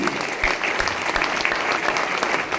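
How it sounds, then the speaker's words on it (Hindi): Loud, steady applause from an audience at an RCM business meeting in Nadiad, dense clapping filling the whole stretch without a break. "जोरदार ताली बजा दीजिए प्लीज"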